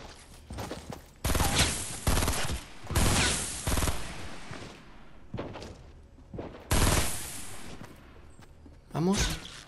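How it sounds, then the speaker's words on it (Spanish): Gunfire from other players in Fortnite Battle Royale: several loud bursts of shots a second or two long, separated by quieter gaps, fairly close, with a final sharp burst near the end. "se están disparando, es lo que quiero"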